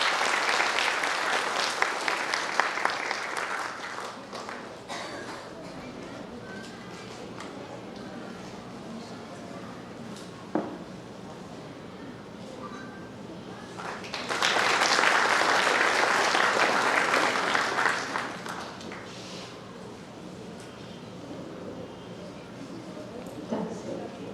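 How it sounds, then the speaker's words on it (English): Bursts of crowd applause at a school kindergarten annual concert, fading into scattered clapping and murmur, then swelling again into a second round of clapping before tapering off. "Can you please hear a very big round of applause for them"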